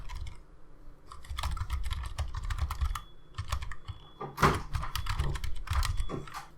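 Rapid typing on a computer keyboard at close range, dense irregular key clicks with a few louder strokes, alone without speech.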